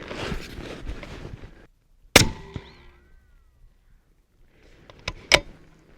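A Bergara 6.5 PRC hunting rifle in an MDT carbon stock fires one loud, sharp shot, and its report rings out. A few seconds later two more quick cracks sound, likely further shots on the range. Rustling and handling noise come before the first shot.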